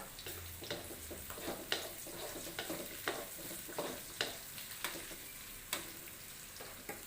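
Chili stir-frying in a pan for water spinach with tauco, a steady sizzle with regular sharp clicks of a spatula tapping and scraping the pan, close and moderately loud, no voices.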